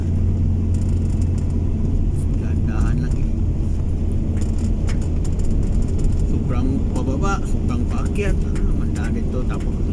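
Vehicle engine straining as it climbs a rough mountain road, a steady low rumble with rattling under intermittent talk.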